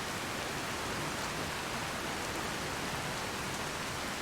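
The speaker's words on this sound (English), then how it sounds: "I really wish this rain would let up" Steady, even rain hisses continuously in the video game Skyrim, faint and unbroken with no other sounds.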